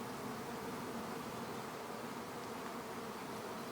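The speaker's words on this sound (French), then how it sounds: "Donc ça, c'est des abeilles qui sont super faciles à travailler." Honeybees buzzing steadily in an open hive during the housing of swarms, a dense, continuous drone of many insects close by with no pauses.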